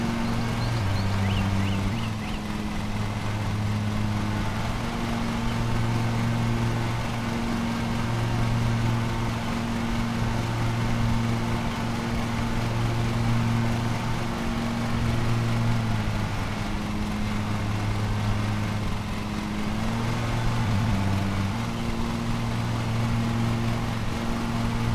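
A video game lawn mower runs at a steady droning idle throughout, its low tone dipping and rising slightly every few seconds as it moves across grass, with no voices.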